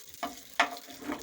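Vegetables soften in a little oil in a home kitchen pan used for homemade pizza toppings, giving a soft sizzle broken by a few sharp stirring scrapes and clatters, with no voices.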